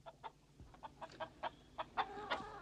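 Chickens cluck in a quick series of short, quiet calls, fairly faint against a low background.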